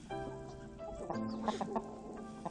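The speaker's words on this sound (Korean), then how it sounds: "지금 이 모습은 흥부가 암탉 한 마리와 싸우는 중이다." A rooster and a hen squawk and cluck in an agitated flurry, with sharp bursts of wing-flapping scuffle close by as they fight.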